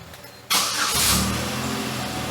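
A Buick Rendezvous engine cranks and catches, firing up after a quiet moment with a low battery and then settling into a steady, loud idle close by.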